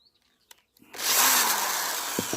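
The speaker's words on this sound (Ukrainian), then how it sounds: "Беремо сверло. Так, і сверлимо." An electric power drill bores a hole while making a beekeeping frame holder. A few faint taps come first, then the motor whirs up loud and close and holds a steady, high drone for over a second.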